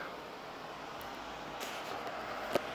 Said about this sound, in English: That's the air conditioner kicking in. It's quite loud.